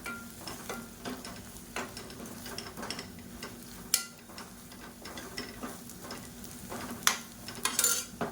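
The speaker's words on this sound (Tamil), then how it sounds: "அதை லேசாக எண்ணெயில் வதக்கி விட்டுக்கோங்க." Onions and curry masala powder are stirred lightly in oil for a lentil ball kuzhambu, making a soft, low sizzle punctuated by scattered ladle taps and scrapes against the pan, with no talking.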